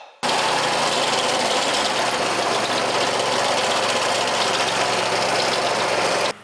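A turf cutter's engine runs steadily at a loud, constant level for several seconds, a busy mechanical drone with rattling vibration, starting abruptly and cutting off at the end.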